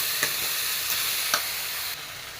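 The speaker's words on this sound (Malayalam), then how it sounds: "ഇനി ഇത് വേവാനുള്ള വെള്ളം ഒഴിച്ച് കൊടുക്കാം." Water is poured into a hot pan of beetroot soup with crushed pepper and salt, giving a soft, steady sizzle and hiss with a few faint clinks of stirring, quiet and close.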